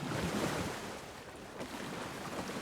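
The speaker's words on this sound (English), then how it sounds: "My splashing would make a difference in the water." Wading and splashing in water near a witch's hut in the Alan Wake 2 game, a steady wash of sloshing water with soft surges, fairly close and moderately loud, and no speech.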